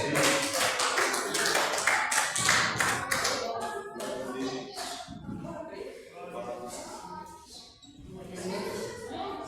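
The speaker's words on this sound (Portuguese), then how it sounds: "As palmas bem alegres para Jesus." A church congregation claps along joyfully during a worship service, steady rhythmic hand claps mixed with singing voices, fairly loud and close, tapering slightly toward the end.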